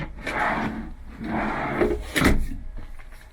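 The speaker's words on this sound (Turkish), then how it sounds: "Kilit çekmeceler yine aynı şekilde." A locking drawer in a Mercedes Vario camper van kitchen slides open and shut with a wooden rubbing scrape, followed by a firmer thud as it closes, close by.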